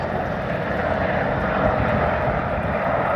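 A Wildcat helicopter performs a wing over during an airshow flying display, its engine and rotor producing a steady, loud broadband roar throughout with no voices.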